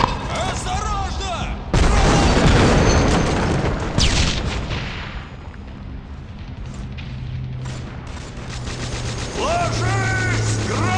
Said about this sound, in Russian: Ложись! Граната!